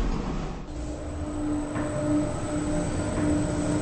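An elevator in a Roblox game moves with a steady, fairly loud mechanical hum and a faint, wavering tonal whine throughout, with no talk.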